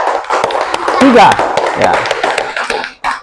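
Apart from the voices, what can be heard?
classroom applause for a group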